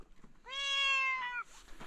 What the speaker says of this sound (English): Is this a snow leopard? No, it's a cat.